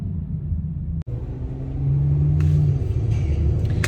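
A car on the move gives a steady low engine and road rumble from inside the cabin, with a sharp click near the start and a drone that swells slightly louder midway.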